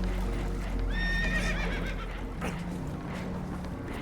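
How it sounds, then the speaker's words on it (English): Spooked horses in the Red Dead Redemption 2 video game let out a loud whinny with rising and falling pitch, set over a steady low rumble of water and a boat, with faint clip-clop and scattered thuds beneath. "Horses are spooked"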